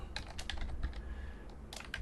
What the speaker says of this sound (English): that way you can see me typing this stuff